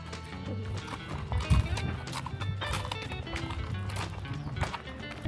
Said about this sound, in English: Were you a little nervous when the horse was going a little fast